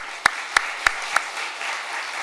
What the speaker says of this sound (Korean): 박수 격려 좀 해주세요